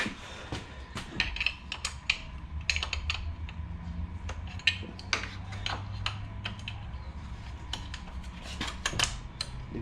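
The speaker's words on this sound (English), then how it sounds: "we're going to torque it from the inside" A torque wrench tightens bolts on an Audi A4 2.0 TDI CGL engine during a cam belt and rocker job, making irregular close metallic clicks and ratcheting ticks over a faint background hum.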